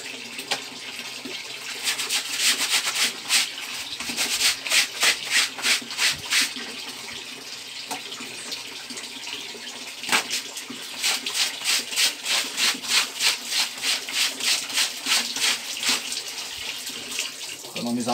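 Clothes scrubbed by hand in running water, a rhythmic series of wet rubbing strokes in quick bursts over a steady flow of water, close and fairly loud, with occasional talk.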